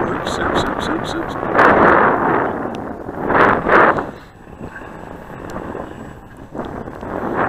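Wind blows outdoors at a model airplane field, buffeting the microphone in loud, rough gusts that swell and fade, with a voice partly audible under it.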